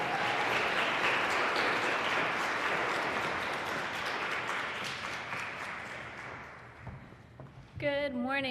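Sustained applause from a school audience at an elementary DARE graduation as the principal is introduced: broad, even clapping that slowly fades before a voice begins speaking at the end.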